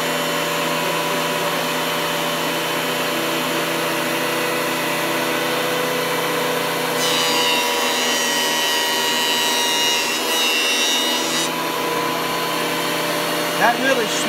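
A Cutech benchtop jointer cuts rough wood, its steady motor drone joined midway by a brighter, gritty cutting whine as a board passes through for several seconds before returning to the plain running hum.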